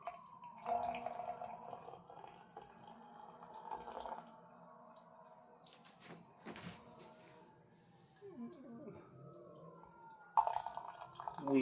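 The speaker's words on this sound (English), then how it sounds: "fill up the water" Water running and trickling into a kettle or jar while preparing a tea infusion, intermittent pouring with faint knocks and handling sounds, quiet and close.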